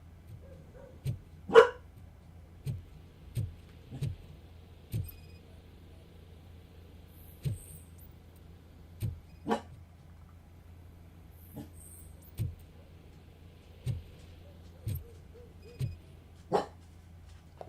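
A dog in the video game Robocop: Rogue City barks repeatedly at irregular intervals, a dozen or so short, sharp barks over a steady low hum, with one louder bark early on.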